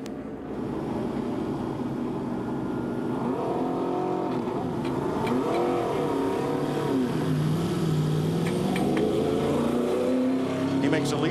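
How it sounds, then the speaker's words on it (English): Michael Waltrip's NASCAR stock car leaves pit road under caution at the 2014 Daytona 500, its engine droning and rising in pitch as it pulls away, steady and fairly loud under continuous commentary. "He makes a leisurely exit from pit road as we're under caution."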